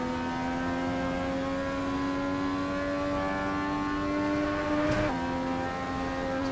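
A race car engine on a track, a sustained droning rev that climbs slowly in pitch, then a sharp shift or lift-off near the end before the tone drops and resumes, heard close without talk.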